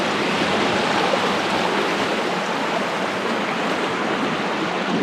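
Tanner Creek near the Columbia River flowing steadily, a dense close rushing wash of water that holds even throughout with no voices.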